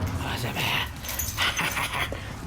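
A dog whimpers and pants nearby in a motorcycle repair shop, with a rapid, breathy, whiny sound that continues through the clip while a person talks.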